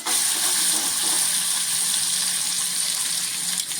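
Drumstick pods (moringa) and chopped onion sautéing in a Maharashtrian oil tempering with turmeric, giving a steady, close, fairly loud hiss of frying with no talking.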